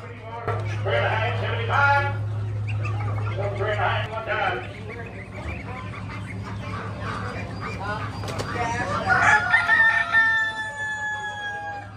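Game roosters crowing at a small animal auction, several loud nearby crows and clucks overlapping, with a person talking over the birds for much of it.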